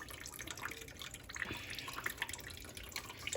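Tap water runs and splashes while a black bass is rinsed in a kitchen, a faint close trickle with small drips and spatters, steady for a few seconds with no voices.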